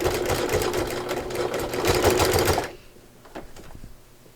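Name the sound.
sewing machine with walking foot sewing binding onto quilt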